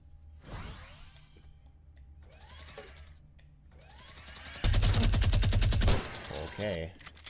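A minigun fires in the Fortnite video game, opening with spin-up whooshes and mechanical clatter before a dense, loud burst of rapid shots lasting just over a second, followed by a short rattle as it winds down.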